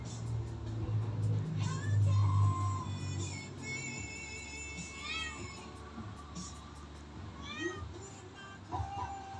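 Several cats meow repeatedly nearby, their rising and falling cries overlapping over a low rumbling background.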